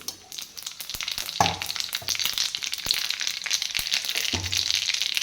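Mustard seeds and cumin spluttering in hot oil in an iron pan, a steady loud crackle and sizzle with sharp pops scattered throughout, close and alone with no talk.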